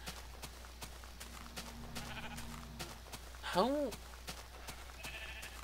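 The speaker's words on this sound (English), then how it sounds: "In case you're wondering, the sheep are now over here in their own little pen." Sheep bleat in a Minecraft world, one distinct rising-falling bleat standing out over steady game background noise, with someone talking briefly nearby.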